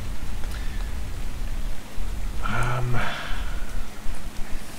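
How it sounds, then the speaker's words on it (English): Steady rain falling around someone out on a ride, a constant broadband hiss close by with a brief soft vocal sound partway through. "And I shall just enjoy the rain for a bit."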